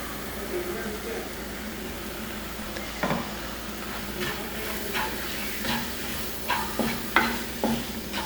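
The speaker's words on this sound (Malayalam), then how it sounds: "എല്ലാം കൂടി ചേർത്ത് നന്നായിട്ട് ഒരു 5 മിനിറ്റ് വഴറ്റാം." Kadai masala and paneer base sautéing in a pan, a continuous close sizzle with intermittent scraping strokes of a spoon that grow more frequent and pronounced in the second half.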